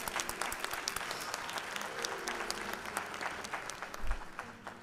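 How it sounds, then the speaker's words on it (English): An audience at a school spring concert of Disney classics gives a round of applause, dense and steady clapping heard from a moderate distance, fairly faint overall, with a brief low thump near the end. "let's give her a round of applause"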